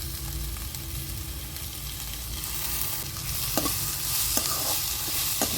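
Onions, green chilli and tomato frying in a pan for kothu parotta made from leftover chapati, with a continuous close sizzle and occasional spatula scrapes and clinks against the pan.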